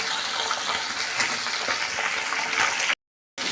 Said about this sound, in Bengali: আলু আর পটলটা একটু ভেজে নিলাম